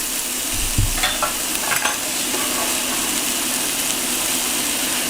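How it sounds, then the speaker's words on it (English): Shallots and garlic sizzle in a pot for creamy mushroom soup, giving a steady close frying hiss with a couple of brief stirring knocks early on, then an even crackle. "then we're going to add in the shallots and the garlic, and we're gonna let that cook really good"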